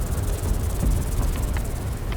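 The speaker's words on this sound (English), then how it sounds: "And maybe we can hear some cicadas." Cicadas in the video game Sniper Elite 5 keep up a continuous high buzzing drone, layered over a steady ambient wash with a few faint clicks.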